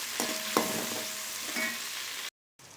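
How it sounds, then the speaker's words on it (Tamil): Chopped onion and tomato sauté in a pan for a cluster bean kootu, giving a close, steady frying hiss with a few stirring knocks, then a brief silent break and a return of sizzling. "வெங்காயம் சேர்த்துக்கிட்டேன் அதோட ஒரு தக்காளி கட் பண்ணி வச்சுருக்கேன் அதையும் சேர்த்துக்குவோம் இது ரெண்டே நல்லா வதக்கி விடணும்"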